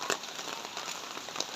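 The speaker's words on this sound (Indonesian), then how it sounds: "Sedang diguyur hujan" Heavy rain pouring in a countryside village, a steady dense hiss of drops on surfaces with faint crackles, continuous and moderately loud.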